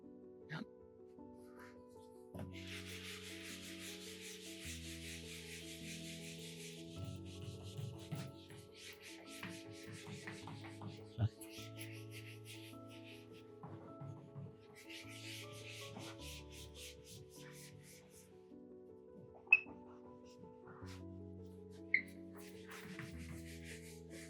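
Hard rubbing strokes on a board, likely a whiteboard, come as bursts of scratchy friction over a quiet, steady background of music, with brief sharp clicks here and there.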